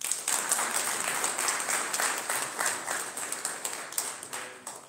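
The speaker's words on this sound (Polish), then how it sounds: "Jeszcze raz brawa." Audience applause fills a convention hall at a national consumer and farmers' convention in Siedlce, Poland. Dense, steady clapping from a large crowd runs through the whole stretch with no speech over it.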